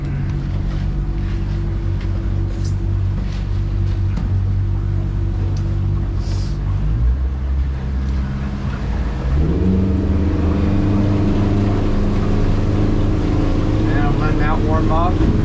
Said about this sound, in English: now I'll show you how the boat runs